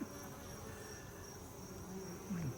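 Honeybees buzz steadily around a beekeeper, a close, continuous insect drone with a brief swell at the end.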